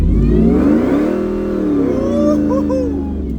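A Ford SVT Lightning pickup with a fully custom exhaust revs hard near the microphone, a deep, loud engine note climbing and holding before easing off, with no talking.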